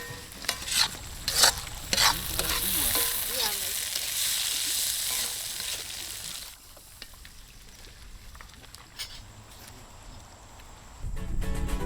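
Sayo, a Minahasa lake-fish dish, is stirred into a sizzling sautéed woku spice paste, with sharp clattering scrapes and a strong fry hiss at first, then the sizzle easing to a quieter steady simmer, and a brief return of louder noise at the close.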